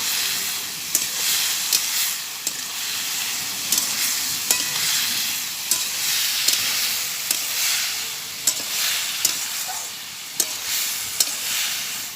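Slices of eggplant and pointed gourd fry in hot oil for a vegetarian meal, a steady bright sizzle broken by regular sharp scraping clicks of a spatula stirring and turning them, close and alone.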